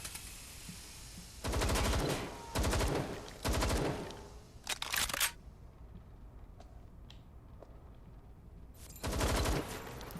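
Automatic gunfire in Watch Dogs Legion comes in several loud, rapid bursts of about a second each, separated by short gaps, with scattered single cracks between them.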